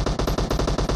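Rapid automatic gunfire in the battle royale shooter PUBG, loud and close, with about nine evenly spaced bursts in quick succession and no talk over it.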